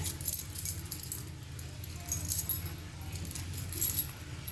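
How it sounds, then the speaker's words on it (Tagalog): Keys jangle while someone unlocks a door, a busy metallic clinking and rattling that comes in bursts over a low background rumble. "May susi naman ako."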